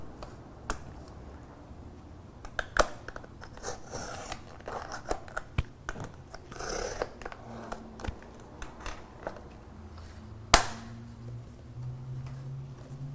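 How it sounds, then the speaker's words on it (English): A paper cutting tool slices a birthday banner along its guidelines, giving close, quiet scraping and clicking cuts with scattered small snaps and one sharper click near the end. "And then you close up and you just cut along the guidelines."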